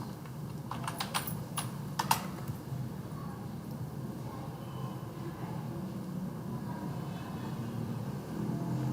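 Fingers type on a computer keyboard while entering product details in point-of-sale billing software. A short burst of crisp clicks comes near the start, then only a low, steady room hum remains.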